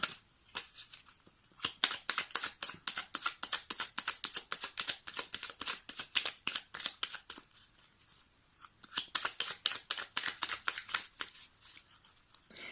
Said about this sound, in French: Donc, allez, on va choisir une autre carte.